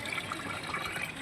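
Water pours into a washing machine at home, a steady, soft rushing fill with no break, faint and close.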